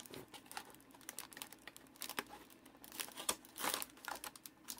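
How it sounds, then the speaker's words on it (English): Japanese trading card booster boxes slide out of their plastic and cardboard packaging, making faint, continuous crinkling and scraping with small rustles and taps close by. "Attempt to sneak all the booster boxes out of the back here."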